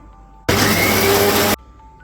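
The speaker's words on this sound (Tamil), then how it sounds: "நல்லா பேஸ்ட்டாக அந்த மசாலாவை அரைச்சாச்சு." A mixer grinder whirs loudly for about a second, grinding coconut and fried masala with a little water into a paste, a single steady burst that starts and stops abruptly.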